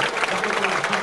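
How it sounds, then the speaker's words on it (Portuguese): Officials and audience at a 1987 soy milk plant inauguration applaud in a continuous, even wash of clapping, heard alone and fairly loud. "Nesse momento, todos os presentes, autoridades, batem palmas para o prefeito Rômio Anísio Jorge"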